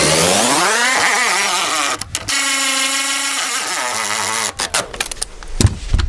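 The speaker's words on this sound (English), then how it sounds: "I'll go around here with my Milwaukee and finish that." A Milwaukee power tool drives bolts down on hooks inside a Ford Bronco WildTrak storage enclosure, with loud close whirring bursts that rise in pitch, then short stops and restarts.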